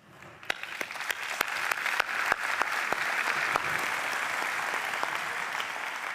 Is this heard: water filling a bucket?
no